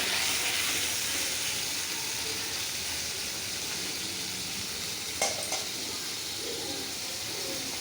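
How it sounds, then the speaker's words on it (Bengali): Prawns fry together in hot oil with a loud, steady, close sizzle that runs throughout, broken only by a brief utensil clatter near the end. "তাই সব আমি একসঙ্গেই ভেজে নিচ্ছি চিংড়ি মাছটা।"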